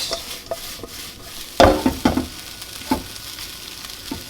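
Food frying in a pan on a stove while being mixed, with continuous sizzle under repeated scraping knocks of a spoon against the pan, close and loud, no voices.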